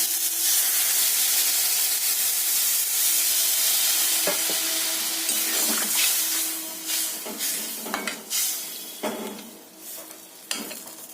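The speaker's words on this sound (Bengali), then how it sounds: "এরপর জল দিয়ে দিলাম" Water poured into a pan of sizzling fish curry with bata fish sets off a loud, bright hiss that gradually settles into softer bubbling, broken by scattered clinks and scrapes of stirring.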